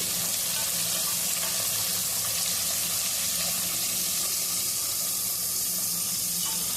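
Garlic and onion sizzle steadily in hot oil for a tomato curry, a loud, constant bright hiss with faint stirring underneath and no voices.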